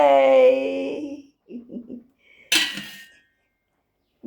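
Pots and dishes being washed clink and clatter in a short burst between a few brief voice sounds, with quieter rattling before and a pause after.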